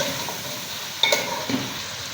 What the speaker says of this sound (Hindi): अब हम इसमें चिकन ऐड कर देंगे। अच्छे से भून लेंगे चिकन डाल के।